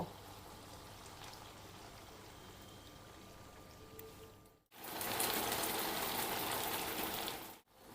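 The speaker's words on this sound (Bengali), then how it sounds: "এখন আমি কর্নফ্লাওয়ার দিয়ে গোলা জলটা দিয়ে দেব" Cornflour slurry pours into chicken Manchurian simmering in a pan, a steady hiss of liquid that swells to a louder, wetter rush after a brief cutoff, with no voices.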